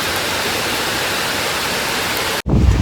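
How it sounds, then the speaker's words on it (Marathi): Loud, steady monsoon rain in Goa roars in a dense hiss, then abruptly cuts to a rumbling, wind-buffeted sound near the end. "हा पाऊस बघा"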